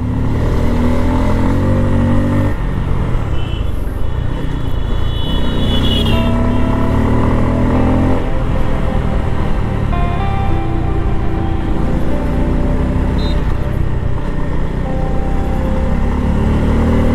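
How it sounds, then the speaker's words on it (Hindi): Dense road traffic in a city, heard from a motorbike: a continuous loud wash of car and motorcycle engines with rising revs and passing vehicles, steady throughout with no talking. "ट्रैफिक बहुत ज़्यादा है"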